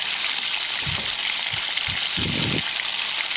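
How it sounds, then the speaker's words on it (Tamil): Ginger garlic paste fries in hot oil for a pepper chicken gravy, a constant close sizzle with a few soft thumps of stirring mixed in. "இஞ்சி பூண்டு பேஸ்ட் நல்ல பச்சை வாசனை போட்டு அது ஒரு ஃப்ளேவர் மாதிரி ஒரு வாசனை வரும்"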